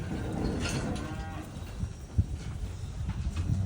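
Calves and cattle at a hay feeder on a farm, with a drawn-out moo from nearby over a steady background of shuffling, munching and outdoor noise.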